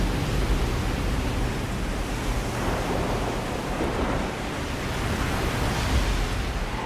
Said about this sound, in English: Water everywhere.